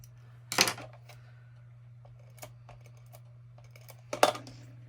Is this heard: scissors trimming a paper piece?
yes